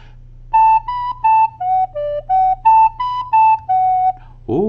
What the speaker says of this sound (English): Ooh, that's starting to sound like SpongeBob